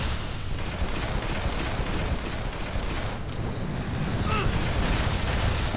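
Pistol fire in the Shadow Warrior video game crackles as rapid, repeated shots over a dense, noisy game soundscape, loud and continuous throughout.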